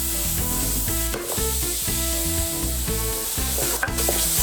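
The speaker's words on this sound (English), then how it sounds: "Little bit of olive oil just to help the frying process." Continuous loud sizzling of steak frying in olive oil, with rhythmic scraping and stirring sounds on top, no voices.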